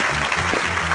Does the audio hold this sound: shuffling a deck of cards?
no